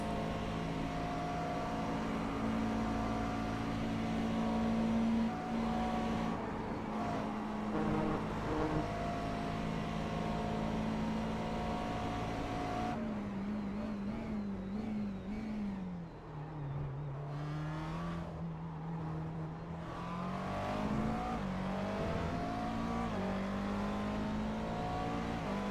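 McLaren race cars in a sim racing endurance event at Spa, 24-hour format, roar steadily throughout, their engine tones rising and falling through gear changes as cars pass and chase, with no talk over the sustained noise.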